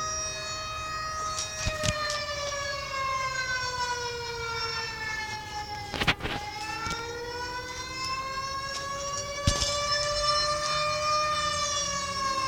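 Tornado warning sirens wail outdoors, several overlapping tones slowly rising and falling in pitch, loud and steady throughout with a few sharp bangs mixed in.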